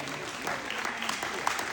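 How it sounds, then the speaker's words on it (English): A live audience claps and cheers at an animal feeding show, a dense burst of applause with crowd voices mixed in, close and sustained throughout. "Give him a clap, guys, make some noise for him."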